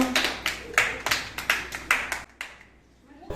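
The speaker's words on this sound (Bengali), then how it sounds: "হাততালি দাও" A small group claps for a couple's wedding anniversary, several quick rounds of bright, near handclaps in bursts, fading out toward the end.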